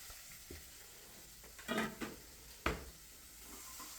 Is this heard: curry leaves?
yes